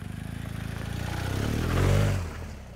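A BMW off-road motorcycle ridden in a demonstration runs along flat ground, its mid-pitched engine note rising and swelling as it accelerates up a bank, then easing slightly near the end.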